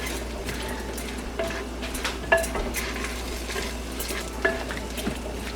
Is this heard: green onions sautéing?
yes